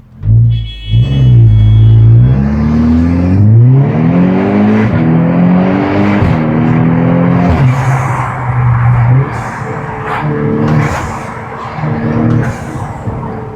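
A Volkswagen Golf R pulls away hard from a standstill, its engine loud and close as it revs up through several gear changes with rising and falling pitch, alone without any talking.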